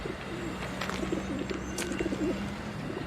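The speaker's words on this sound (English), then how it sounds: "Yeah, they're homing pigeons. This is their home." Homing pigeons coo repeatedly in a low, throaty rhythm at their home loft, near and moderately loud over a steady background hum, with a brief higher rustle partway through.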